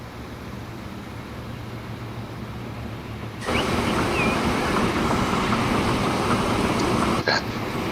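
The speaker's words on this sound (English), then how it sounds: "There's a passenger train blocking." A passenger train in Transport Fever 2 rolls along with a steady rumbling hum that turns fuller and louder midway, holding constant to the end.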